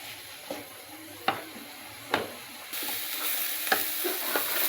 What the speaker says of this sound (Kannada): ಹಾಕ್ಕೊಳ್ಳಿ ಹೆಚ್ಚಿದ ಈರುಳ್ಳಿ. ಅದನ್ನು ಕೂಡ ನೀಟಾಗಿ ಬೇಯಿಸ್ಕೊಬೇಕು